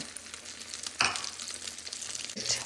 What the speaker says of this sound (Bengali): তো ডিমটাকে আমি ভালো করে ভেজে নিচ্ছি